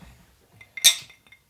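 Glasses of wine and whiskey meet in a toast, one sharp bright clink up close, ringing briefly in an otherwise quiet room.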